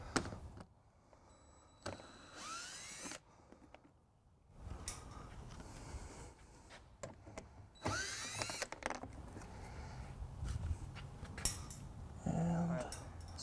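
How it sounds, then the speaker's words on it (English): A power drill whirs in short, loud bursts removing 10mm bolts on a 2014 Mini Cooper Countryman, pausing between runs, with clanks and rattling of tools and metal parts in between. "And we'll just be using the drill."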